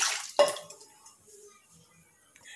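Water is poured into gram flour batter in a home kitchen while making pakoda kadhi, giving a brief splash followed by a few faint drips in near silence.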